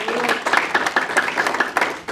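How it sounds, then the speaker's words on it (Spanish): A congregation at a Spanish-language Bible study claps hands in a fairly even rhythm, loud and close, with voices mixed in over the clapping. "denle palmas al Señor."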